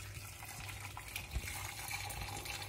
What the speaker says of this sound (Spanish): 1 litro de agua que he calentado previamente